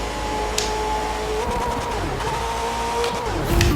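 Engine of a car in a racing video game held at a steady high drone while drifting, with pitch sliding down and back up as the tires squeal briefly near the end.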